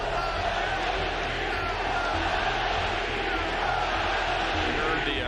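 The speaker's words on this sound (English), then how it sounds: "that was the sound of a frustrated A's fanbase" A's baseball fans at the Oakland Coliseum roar in a sustained, loud, dense crowd noise that holds steady without a break, a frustrated stadium-wide bellow.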